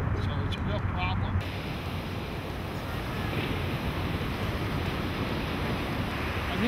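Ocean surf and gusting wind at Venice Beach after a storm, a steady broadband roar of breaking waves with microphone wind buffeting throughout, close and loud.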